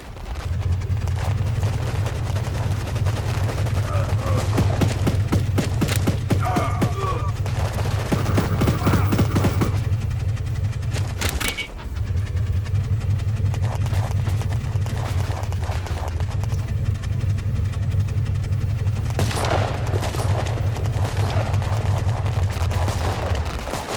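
Reinforcements in the WarPips video game fire in rapid, crackling gunfire bursts over a steady low engine-like drone, with a brief break midway.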